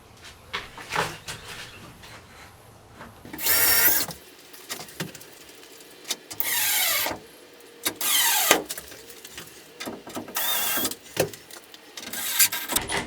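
A power drill drives screws during a MaxxAir Maxxfan Deluxe roof fan install, several short whirring bursts with pauses between them, plus handling knocks and clatter and no talk.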